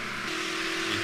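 A car engine in GTA San Andreas hums at a steady, moderately loud drone, a continuous buzzing tone that holds even throughout the brief moment with no talk over it.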